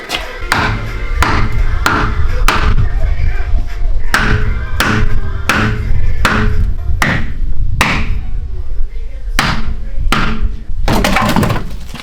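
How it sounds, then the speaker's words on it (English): A rapid series of sharp, loud hammer blows striking a piece of wood on a car, around a dozen hits in a quick uneven rhythm, close by. "I'm gonna take a piece of wood and a hammer"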